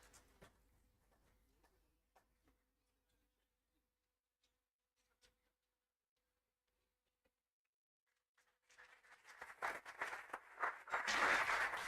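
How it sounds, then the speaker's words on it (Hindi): Applause at the inauguration of a CIPET centre in Bhagalpur: a long near-silent stretch with a few faint clicks, then clapping breaks out at about eight and a half seconds and swells loudly to the end. "कृपया आपकी तालियों की गड़गड़ाहट रुके ना"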